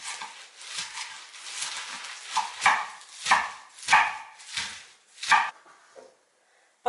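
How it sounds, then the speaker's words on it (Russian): A knife finely chops fresh, pre-washed spinach on a board, giving about nine crisp, evenly spaced strokes roughly every two-thirds of a second. The chopping is close and clear, with no talk, then stops near the end. "250 грамм свежего заранее промытого шпината нарезаю мелко."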